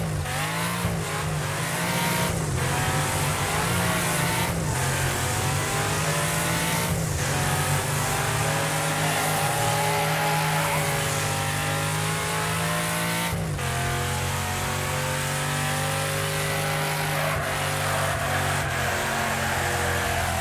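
Continuous loud car engine roaring and revving in the racing game Wreckfest, pitch rising and falling as it shifts gears, with brief tire noise; steady throughout with no talking.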